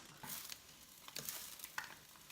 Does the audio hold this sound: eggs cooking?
yes